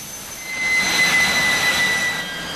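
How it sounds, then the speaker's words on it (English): A Rolls-Royce Derwent jet engine running in a backyard in a valley, a loud steady roar with a whining high tone that swells in the middle and eases slightly toward the end. "The noise being produced by the running engine echoed up through the valley"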